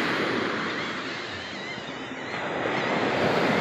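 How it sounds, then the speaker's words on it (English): Beach ambience on a fine day, a broad steady wash of surf with some wind buffeting the microphone, swelling slightly toward the end, no talk. "we're at the beach, and the weather's great"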